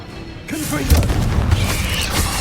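A deep booming Confringo blasting-curse explosion in Hogwarts Legacy, a loud low thump followed by a rumbling roar that lingers, with a short voice heard just before the blast.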